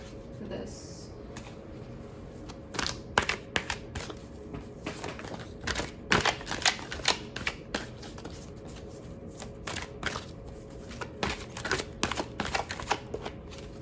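Oracle cards being shuffled by hand in a steady run of riffling bursts and soft slaps, close and fairly loud, continuing for the whole stretch.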